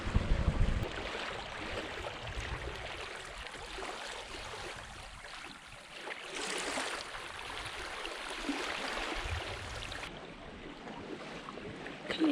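A petrol-powered dinghy motors slowly across the sea in the Exuma Cays, Bahamas, its quiet outboard hum mixed with steady water wash and wind, continuous and close, with no voices.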